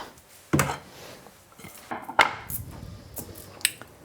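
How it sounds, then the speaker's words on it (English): A knife chops mushrooms on a cutting board in a few sharp, separate knocks spaced about a second apart, close, with quiet kitchen clatter between them. "So next we're going to chop up some mushrooms."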